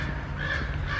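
A crow caws twice in an outdoor street setting, the harsh calls standing out clearly over steady low background rumble, with no talking.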